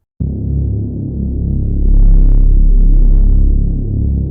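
Synthesizer patch with a sine-wave sub oscillator on oscillator 3 for a UK R&B synth sound, giving a steady, deep, loud low hum that swells slightly midway and holds with a faint buzzy upper layer.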